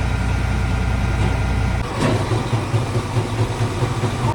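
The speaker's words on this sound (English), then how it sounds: "Auger sounds terrible." A damaged grain cart auger running at harvest with a bad noise, a loud steady mechanical drone whose low rumble shifts and grows rougher partway through.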